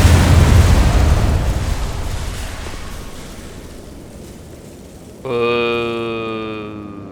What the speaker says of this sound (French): Ils sont sérieux avec les explosions là?